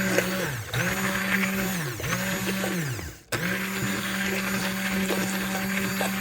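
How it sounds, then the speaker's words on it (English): An immersion blender whirring through hollandaise sauce, a loud steady motor hum that dips and rises in pitch as it works, briefly cutting out before resuming. "I have an immersion blender, but you can use a normal blender. And we're going to mix this up"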